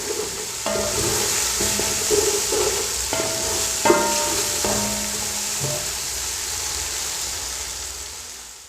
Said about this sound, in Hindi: अच्छी तरह मिक्स कर लेंगे और मज़ीद 2 से 3 मिनट के लिए इसे फ्राई करेंगे